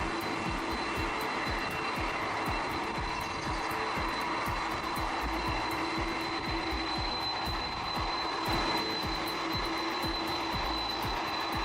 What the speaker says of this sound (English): a giant jet skims low over the treetops, its engine screaming just yards above the ground